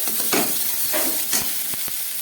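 Boiled potato and prawns being fried down with spices, green chilli and salt in a pan: a close, steady sizzle broken by rhythmic scraping and stirring strokes, with no talk.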